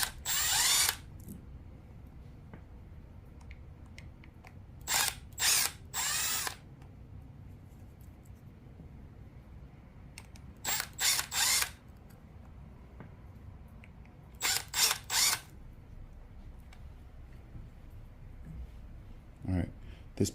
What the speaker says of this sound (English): remove the retaining screws on the bottom of the carburetor